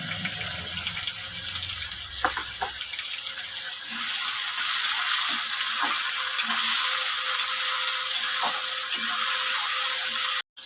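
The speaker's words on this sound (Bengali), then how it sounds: "এগুলো নেড়ে চেড়ে ভেজে নেব।" Chopped beans and carrots fry in hot oil in a pan, a loud steady sizzle lasting several seconds with a few scraping stirs partway through, ending abruptly.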